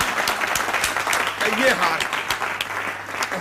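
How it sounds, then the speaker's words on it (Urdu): Audience applause at a charity gathering in the PTV drama Alif Noon, a steady patter of clapping from a room of people that runs under someone talking. "تالیاں. تالیاں."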